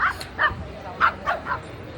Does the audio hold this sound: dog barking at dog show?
yes